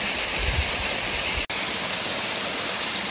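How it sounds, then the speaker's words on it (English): Water pouring down from a big rock outdoors in nature, a steady, full rushing hiss like a small waterfall, close and continuous with no talking. "There's also water flowing from that big rock up there."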